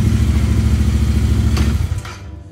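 A Royal Enfield Interceptor 650 Tracker motorcycle engine idles loud and close with a steady throbbing rumble, then cuts out abruptly as it stalls, leaving near silence.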